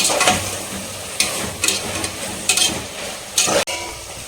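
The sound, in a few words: mint and masala sautéed and stirred on high flame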